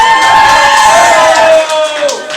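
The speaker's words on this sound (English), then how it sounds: "so give Helen a big round of applause for that one" Crowd cheering and whooping at a wedding reception, loud and continuous over a faint music tone, fading slightly near the end.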